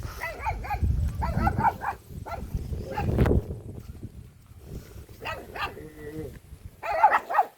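Puppies bark and yip in short, excited bursts near a house, with a few louder yelps scattered among rustling and low background noise.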